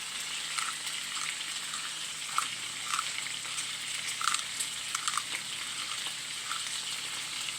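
Five or six eggs, seasoned with ground salt and pepper, frying in a pan with a steady, close sizzle and occasional small pops and crackles throughout, no voices over it.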